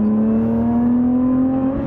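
Steady cabin drone inside a Lotus Evora 400 while driving, a strong low engine hum holding a near-constant pitch with a slight rise toward the end, loud and close with no talking.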